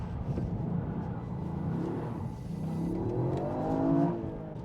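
A Toyota GR Yaris drives along with its engine whirring and rising through a couple of gentle revs, heard from inside over steady road rumble at a moderate level.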